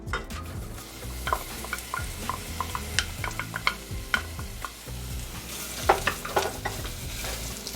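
Onions fry in a tablespoon of vegetable oil in a pan, with a continuous close sizzle and the repeated scrape and clatter of a utensil pushing them around.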